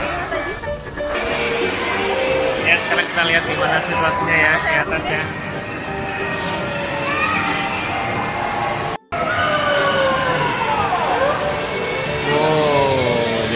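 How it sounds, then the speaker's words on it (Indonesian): Cable car ride at Trans Snow Bekasi, with a continuous rumbling, rattling drone of the moving car and a brief dropout, while someone talks over it throughout. "Ya alhamdulillah kita akhirnya naik kereta gantung juga."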